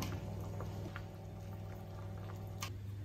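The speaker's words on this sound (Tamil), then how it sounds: "பாருங்க, குழம்பு நல்லா கொதிச்சிருச்சு" Sundakkai kuzhambu, a Tamil village-style ground-paste curry made with turkey berries, simmering in a pot, a steady low bubbling hum with scattered soft pops and a brief sharper bubble burst near the end, no talking.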